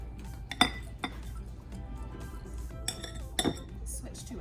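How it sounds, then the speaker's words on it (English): Utensil stirring a batter mixture in a bowl, a few bright clinks of metal against the bowl over a soft background, with a voice speaking faintly in the room. "Give that a little stir."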